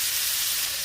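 Potatoes frying in a pan for a Mexican Christmas breakfast, a steady close sizzle with soft crackle and hiss throughout, no talking.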